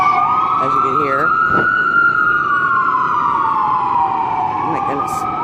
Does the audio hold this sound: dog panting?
no